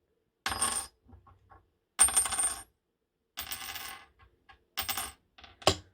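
Silver coin dropped onto a hard surface several times, each drop giving a bright metallic ring with short bounces and rattles between, close and clear with no talking.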